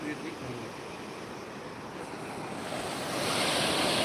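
Flood water on the Godavari river surging through riverside farm fields near Nanded, a continuous roaring wash of rushing water and wind that swells louder toward the end, with no clear talk.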